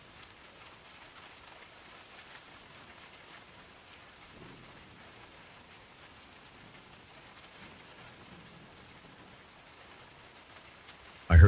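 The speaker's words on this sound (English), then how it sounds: "I heard the rain hitting my rooftop." Steady, even rain pours onto a rooftop throughout, a dense continuous hiss with soft rumbling underneath, uninterrupted and fairly close, ending with a sudden loud burst at the very end.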